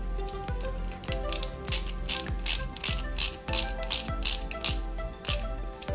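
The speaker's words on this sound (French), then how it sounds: "On va venir installer avec 2 vis HP la plaque ici de maintien." Ratcheting screwdriver driving two screws into the retaining plate of a 1/8 scale Mercedes-Benz 300 SL model car kit, a steady rapid series of sharp mechanical clicks close up with no talking.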